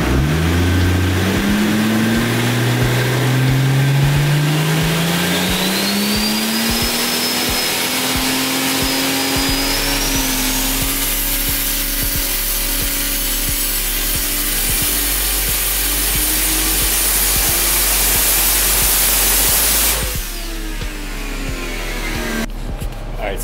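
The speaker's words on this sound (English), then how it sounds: "that one was just an initial pull just to make sure our boost solenoid is working like it's supposed to" A boosted MKIV Toyota Supra engine running a dyno pull under Link ECU control climbs steadily in pitch for about ten seconds, holds a loud high-rev roar, then drops off sharply near the end.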